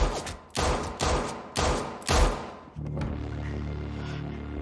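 Gunshots in The Gallery, an interactive fiction adventure game, as four loud, sharp blasts in quick succession, each with a short echoing tail, followed by a steady low hum of game ambience.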